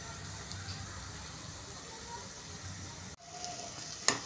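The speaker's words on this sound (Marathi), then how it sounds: "आता आपल्याला कांदा छान व्यवस्थित मऊ परतून घ्यायचा आहे।" Onion softening in a pan for a Maharashtrian mungodi curry gives a faint, steady sizzle, briefly interrupted by a stir and a small clink near the end.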